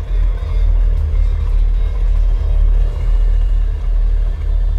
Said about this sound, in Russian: летающие такси и полицейские машины были сделаны из двигателя Chevy V8, маленького подвесного лодочного мотора и простого синтезаторного гула